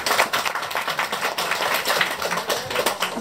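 Loud, dense applause from an audience at the finale of a food contest, cheering a bakery sponsor from Bychawa: many hands clapping rapidly and continuously, close and even, with no voices on top.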